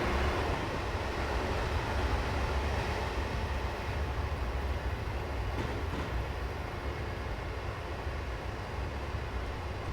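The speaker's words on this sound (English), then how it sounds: "Beautiful Acela Express." Amtrak Acela Express train running in Train Simulator 2016 on the Northeast Corridor, a steady loud broadband rumble and rolling roar that holds unbroken throughout, with no voices.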